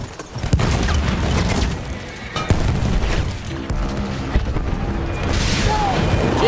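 Battlefield 1 gameplay with heavy booming blasts from grenades and gunfire, loud crashes and rumbling explosions layered through a dense, chaotic battle soundscape.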